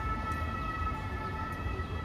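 Emergency vehicle sirens in Paris city streets, faint and distant, a steady wailing tone over low traffic rumble.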